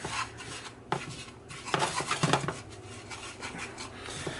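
A spoon scrapes and stirs a toasting sugar and honey mixture in a pan on medium-high heat, with irregular rubbing scrapes and soft metallic clinks, fairly quiet and close.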